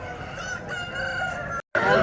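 A rooster crows at a roadside hen market, one long drawn-out call close by, ending abruptly, with faint background market noise beneath.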